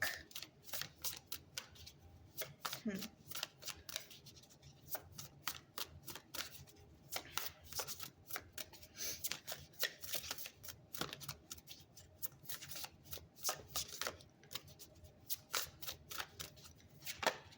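Oracle cards are shuffled repeatedly in quick, crisp riffling bursts, close up and fairly soft, continuing steadily for the whole stretch.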